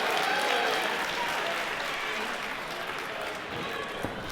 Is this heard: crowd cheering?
yes